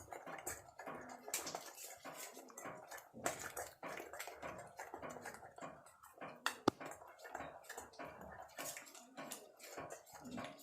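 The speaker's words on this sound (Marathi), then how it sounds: "छानपैकी असं ढवळून घ्यायचं," A biryani spice mixture of garam masala and fried onion being stirred, giving steady scraping and clinking with irregular utensil knocks throughout, close and moderately loud.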